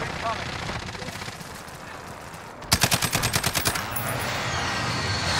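Rapid bursts of automatic gunfire in the Warzone video game, a dense cluster of repeated shots erupting midway through steady background game noise.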